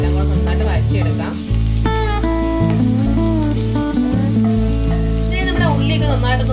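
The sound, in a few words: onion, ginger, green chilli and garlic sautéing in a pan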